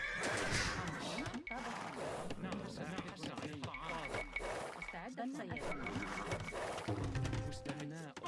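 A horse neighs in a strategy video game on an Arabia-style map, the whinny rising over busy game sounds and music with speech throughout, fairly loud and continuous.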